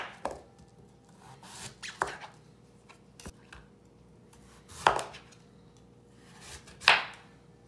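Knife chopping daikon radish into thick slices on a cutting board, a handful of sharp, separate chops with pauses between them, close and clear with no voices.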